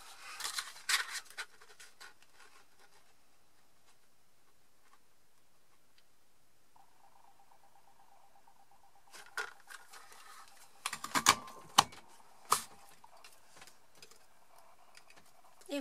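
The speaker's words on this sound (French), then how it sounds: "Et les découper avec ma perforatrice coordonnée." Paper punch snipping out small paper flowers from card, a few sharp clicking punches in short clusters near the end after a quiet stretch, with earlier light handling sounds.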